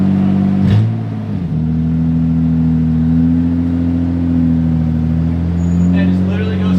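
A Toyota Cressida's engine runs steadily at close range while the car is moved, a loud, even hum with slight shifts in pitch and a brief dip near the start, with voices heard over it.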